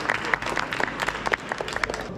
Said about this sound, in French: Un peu d'applaudissements ici.